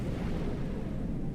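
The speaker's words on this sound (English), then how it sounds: "The resulting explosion will expand outwards from the target location and inflict damage on any ship or station caught within the nebula and explosion radius." Species 8472 organic projectile explodes in the Star Trek Armada 2 strategy game, a dense, rumbling blast that fills the whole moment with sustained low roar and no voices.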